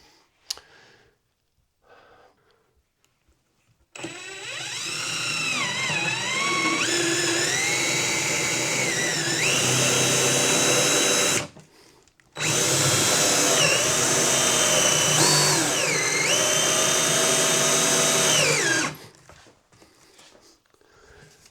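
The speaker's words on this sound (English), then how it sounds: "next order of business is to drill the hole" A power drill whirs loudly and continuously, its pitch dipping as it bites into material while drilling a hole in a Jeep, pausing briefly before a second long run.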